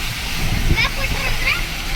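Coastal backwater near the sea churns with a continuous broadband rush, loud and close, with a faint voice briefly heard beneath it.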